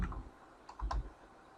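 A few quiet keystrokes on a computer keyboard while a website URL is typed in, soft close clicks in a short, irregular cluster against a quiet room.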